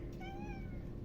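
A cat meows once for attention, a clear rising-falling call that stands out over a steady low hum in a quiet room.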